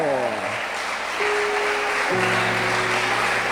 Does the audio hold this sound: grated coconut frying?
no